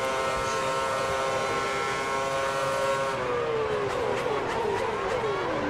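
Formula 1 race cars at the 2010 Brazil Grand Prix, with a steady high engine whine that drops in pitch as cars pass close by, one after another.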